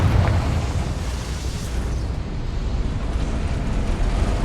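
A Confringo spell blast in Hogwarts Legacy, a loud rumbling explosion with a heavy low roar that stays dense and sustained across the whole stretch, with no voices over it.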